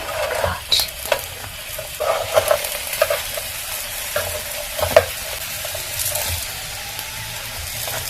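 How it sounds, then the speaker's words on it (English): Soya vegetable rolls fry in a shallow layer of oil, a soft steady sizzle broken by light scrapes and taps as the rolls are turned in the pan. "I get to fry all the sides and I don't use so much oil"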